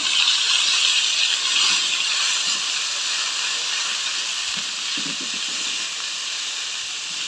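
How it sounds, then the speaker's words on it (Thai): Steady loud hissing sizzle of Thai green curry paste frying in hot oil, continuous throughout with a few faint clatters of a utensil against the pan. "ผัดให้แกงเขียวหวานสุกค่ะ"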